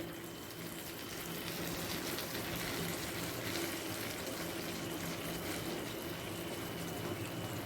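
Water mixed with mustard paste is poured into a pan of cooked-down tomato gravy for a mrigel fish curry. It makes a soft, continuous pouring hiss and bubbling that stays fairly faint and steady, with no voices.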